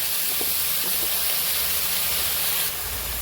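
Pumpkin greens go into a hot pan with potato and soybean chunks, setting off a loud, continuous hissing sizzle that shifts and eases near the end.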